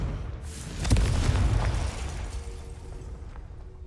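A Confringo fire-blast spell goes off in Hogwarts Legacy, a single booming burst near the start that rolls into a rumbling tail and slowly fades.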